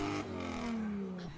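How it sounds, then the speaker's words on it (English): Modified six-cylinder Ford AU Falcon doing a burnout, engine held at a high droning rev with a falling pitch sweep and gritty tyre scrabble underneath, loud and continuous. "That's a pretty good burnout."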